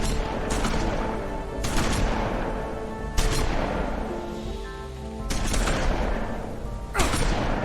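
Gunfire from guns in The Wolf Among Us, loud close bursts of rapid shots in several clusters that ring out and decay between volleys.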